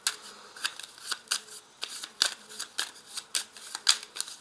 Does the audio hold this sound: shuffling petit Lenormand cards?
yes